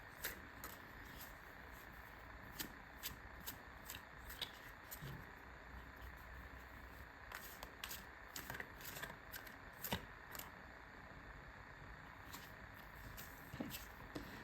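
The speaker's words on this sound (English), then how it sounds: "And let me just shuffle some more for the others." Tarot cards are shuffled by hand in quick, soft riffling flicks and taps, faint and close in a quiet room, with no talking.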